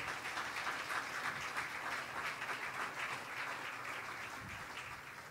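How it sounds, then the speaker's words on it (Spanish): A church congregation applauds during an evening service, a steady wash of many hands clapping at moderate distance for several seconds without talk. "Aplaude al Señor en esta noche."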